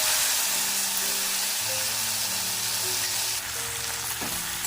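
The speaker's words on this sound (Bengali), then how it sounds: "বেশ কিছুক্ষণ ধরে ভেজে নেব" Jujubes fry in mustard oil in a wok for a pickle, giving a steady close sizzle with faint stirring, and no voices over the cooking.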